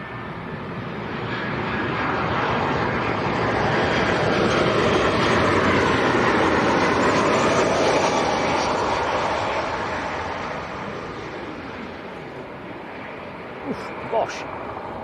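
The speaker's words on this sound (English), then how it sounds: "Ryanair from Dublin on short finals." A Ryanair Boeing 737-800 arriving from Dublin on short final, a broad jet roar that swells over several seconds, peaks loud and near, then slowly fades, with brief voices near the end.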